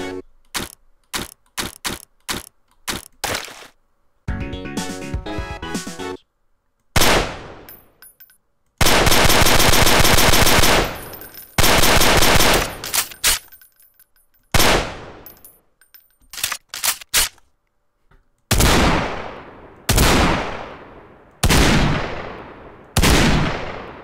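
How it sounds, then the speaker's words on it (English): Weapon fire from Garry's Mod, a string of sharp gunshots in quick bursts and single reports, with a sustained automatic volley in the middle and loud ringing shots at the end, no talking. "Now these actually alternate between two different firing sounds"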